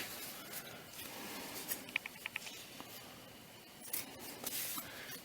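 Scissors snip through vinyl sheet for a doll bustier, a few quiet, quick cuts in clusters close by with soft handling rustle between them.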